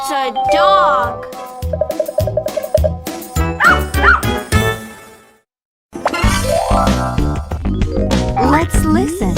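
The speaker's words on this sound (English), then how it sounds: "It's a dog." A cartoon dog barks and yips repeatedly in quick, bright bursts, mixed with chime-like tones and a voice speaking, then a short silence before more barking and sound effects.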